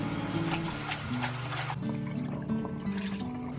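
Chopped chicken drumettes and mid-wings being rinsed in a bowl of water, a close, continuous sloshing and trickling with a few small drips and no talk.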